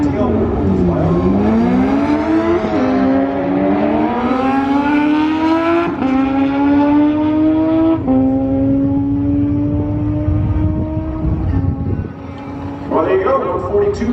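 A Suzuki Hayabusa motorcycle makes a drag racing run in a crosswind at Albuquerque Dragway, its loud engine rising in pitch through the gears for several seconds with a commentator talking over it.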